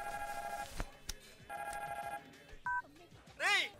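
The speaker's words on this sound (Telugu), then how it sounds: "ఫోన్ రింగ్ అవుతుంది" A telephone rings in repeated electronic bursts of tones with short gaps between them, and other sounds cut in near the end.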